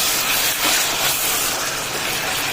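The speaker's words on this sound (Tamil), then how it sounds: "நல்லா வதங்கட்டும்" Chicken pieces sautéing in a pan for a chicken chana masala, giving a steady, close, broadband sizzling hiss that holds at an even level throughout with no talking.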